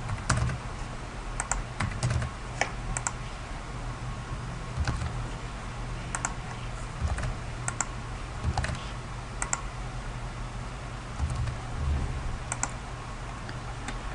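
Grades are entered on a computer keyboard, producing quick irregular bursts of close key clicks with short pauses between groups, steady and fairly quiet with no voices.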